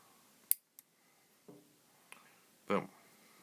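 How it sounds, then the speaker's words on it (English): Excess wire being snipped off a rebuilt Kanger EVOD tank coil, a few sharp close clicks and snips with a louder crunching cut near the end, alone in a quiet room. "we're going to cut off this excess wire"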